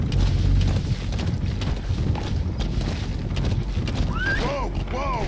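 A horse gallops in the Metal Gear Solid V video game, its hoofbeats a dense rumbling pulse under someone speaking, with a snorting whinny near the end.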